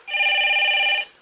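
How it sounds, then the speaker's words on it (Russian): A telephone bell rings in one steady, unbroken burst lasting about a second, loud and close, with no voices over it. "Телефон."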